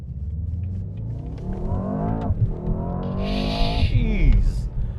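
Mercedes S63 AMG engine in Sport mode, a deep steady rumble with rising revs that sweep up and dip, loud and close, with people talking over it.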